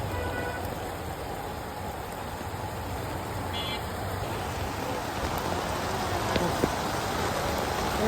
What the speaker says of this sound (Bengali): মাথা খারাপ বৃষ্টি।